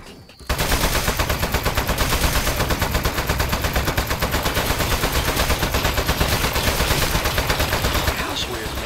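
Rapid, loud turret gunfire from the Portal video game, a continuous machine-gun-like burst of evenly spaced shots running for several seconds after a brief quiet start.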